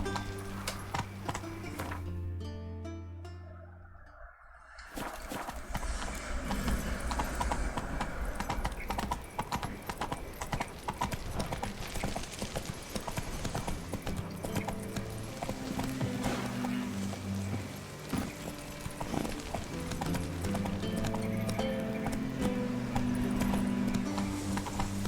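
Roach, Geralt's horse in The Witcher 3 on PC, trots with steady rhythmic hoofbeats after a brief quiet pause, a neigh and soft music underneath.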